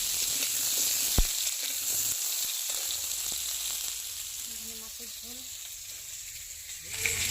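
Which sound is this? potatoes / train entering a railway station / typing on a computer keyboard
potatoes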